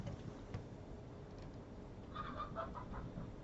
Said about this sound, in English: Chickens are very entertaining.